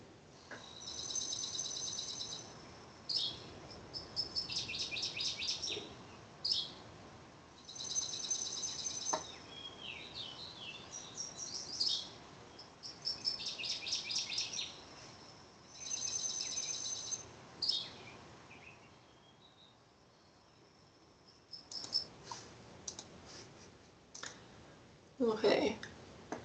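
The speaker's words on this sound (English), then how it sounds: "some of the things that were on that recording were the water thrush, the dark-eyed junco, which is the repetitive sound at the beginning, also the fox sparrow, and the yellow warbler" Songs of wild birds: a repetitive dark-eyed junco trill at the start, then a northern waterthrush, a sweet sing-song fox sparrow, a yellow warbler and a robin. The songs come in several bursts at varying distances, with quieter gaps between them.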